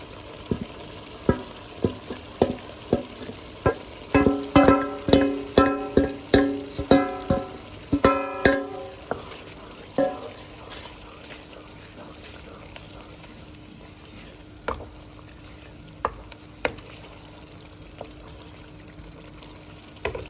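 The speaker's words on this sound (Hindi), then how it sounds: "अब हम इसमें ऐड करेंगे बैंगन का भरता।" Mashed baingan bharta is stirred into a masala in a pan. A spatula scrapes and clacks in a steady rhythm while a soft sizzle runs underneath, and the strokes thin out toward the end.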